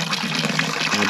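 Clear ground-filtered water trickles steadily in a brief, close, continuous wash of splashing with no pauses.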